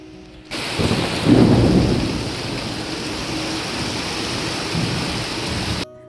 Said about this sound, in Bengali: প্রচণ্ড জোরে বৃষ্টি পড়ছে আর হাওয়াও দিচ্ছে কিন্তু